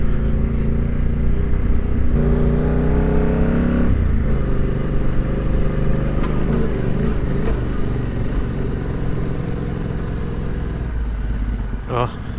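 Big adventure motorcycle climbing a trail in the Pyrenees, its engine droning steadily and loud throughout with pitch shifts as it labours uphill and changes speed.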